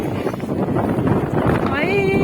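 Steady wind rushes and buffets a microphone over the low rumble of a boat on open water, with a brief high whine near the end.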